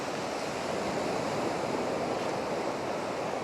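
Sea water washes back out over the shore at dawn in a continuous, close, rushing hiss, steady and unbroken, with no voices.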